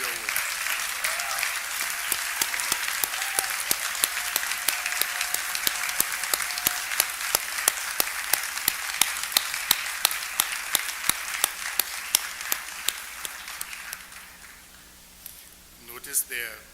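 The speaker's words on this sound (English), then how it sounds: "Let people see you and applaud you for all your work." Audience at a bishop's closing remarks applauds the Family Life Commission and Jubilee Ministries with steady, sustained clapping that thins out toward the end; a few voices murmur underneath.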